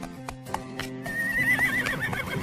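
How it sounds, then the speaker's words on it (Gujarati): A horse whinnies with a rising, drawn-out neigh over rhythmic clip-clop hoofbeats, close and fairly loud, with no voices. "ખદુક ઘોડા ખદુક, ખદુક ઘોડા ખદુક"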